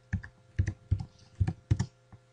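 A few quick bursts of computer keyboard keystrokes, close and distinct, typing dimensions into a paper diagram program, with short pauses between clusters and a faint steady hum beneath.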